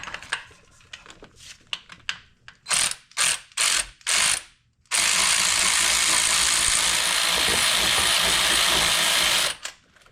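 Hand ratchet backing out the last bolt on a TKO600 transmission, close and crisp, first a series of short clicking bursts with pauses, then one long continuous run of rapid ratcheting clicks before stopping.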